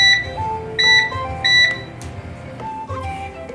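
A kitchen timer is set for a meatloaf bake, giving three short bright electronic beeps in a quick rhythm, close and clear, followed by softer kitchen clatter and a few fainter tones.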